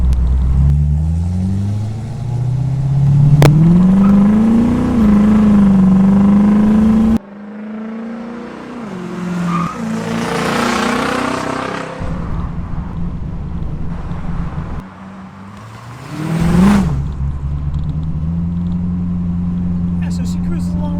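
1972 Datsun Spyder with a 4-speed transmission cruising on the road, a loud close engine drone that climbs through gears with wind rumble and abrupt shifts in tone, while someone talks over it.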